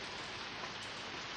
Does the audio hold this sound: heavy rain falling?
yes